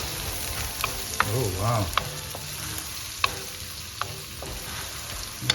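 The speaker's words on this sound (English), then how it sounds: "Okay, stir fry this." Ginger is stir-fried in a pan for Singapore noodles: a steady close sizzle with sharp spatula clicks and scrapes at intervals, and a brief spoken exclamation early on.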